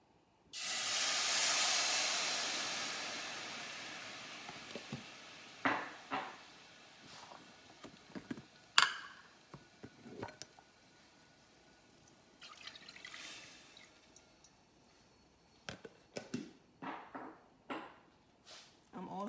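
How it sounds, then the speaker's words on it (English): Soy sauce poured into a hot pot bursts into a loud hiss of steam and sizzle that fades over several seconds, followed by scattered clinks, taps and small kitchen knocks. "I'm also going to be using this soy sauce. So I'm going to put them into the pot."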